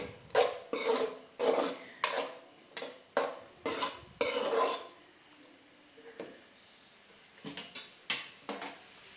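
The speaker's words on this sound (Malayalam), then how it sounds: "അതിനുശേഷം ഞാൻ 4 സവാളയുള്ളി ചോപ്പ് ചെയ്തത് ഇട്ട് കൊടുത്തിട്ടുണ്ട്. നമുക്കത് നന്നായിട്ട് വഴറ്റിയെടുക്കാം." Four chopped onions are sautéed and stirred in a pan for egg roast, heard as a series of close, sharp scraping strokes of a spoon against the pan, evenly spaced with short pauses and a faint sizzle.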